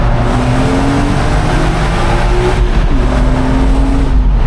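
A BMW Z4 M Coupe engine roars loudly and steadily in a tunnel, revving up with rising pitch and echoing, with no talking.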